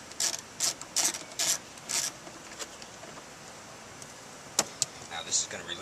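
Screws are removed from the rear speaker panel of a Nissan 300ZX, giving a series of quick, close ratcheting clicks in short bursts, then a pause and a few sharper isolated clicks and scrapes.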